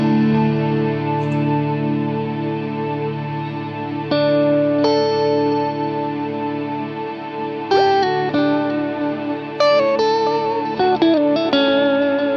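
A Strymon BigSky MX reverb pedal set to infinite latch holds a sustained, shimmering guitar wash as new notes layer in over the frozen tail, steady and loud with no voices.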